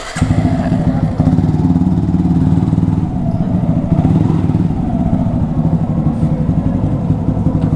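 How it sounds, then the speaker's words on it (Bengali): A motorcycle engine runs loud and close at a steady idle with a rhythmic low putter and some mechanical clatter as the bike is parked in a garage. "তো এখানে বাইক গ্যারেজ করলাম"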